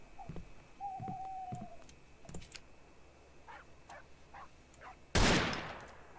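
Gunfire in a shooter video game. Scattered faint pops and cracks are followed by one loud, sharp burst of shots near the end, with a thin whine and background hum.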